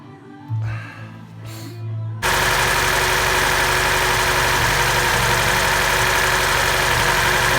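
VAZ car engine, with its membrane fuel pump swapped for an electric pump and running without an air filter, starts after a few faint knocks and a short whir, then idles loud and close with a steady rough, ticking rumble.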